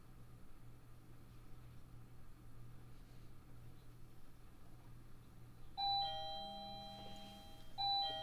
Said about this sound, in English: Wow, I got a doorbell ring?